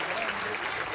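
A crowd applauds at an event marking World Childhood Cancer Day, producing a dense, continuous clatter of clapping hands that fills the whole moment at moderate loudness.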